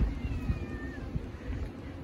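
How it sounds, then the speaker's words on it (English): A pet cat gives a short, fairly close meow over a low background rumble in a room at home on a fall day, with no one talking. "So this is my cat, Mocha."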